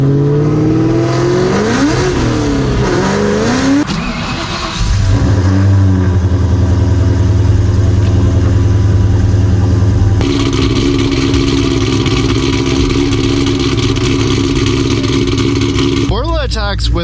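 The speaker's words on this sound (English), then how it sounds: "Borla Attaks with cooked headers and stage 3 comp cams, oh god, it just sounds beautiful" A Terminator Cobra fitted with Borla ATAK exhaust, headers and stage 3 cams revs loudly up close, its deep rumble rising and falling through several blips before settling into a heavy, throbbing idle, with a voice speaking over it.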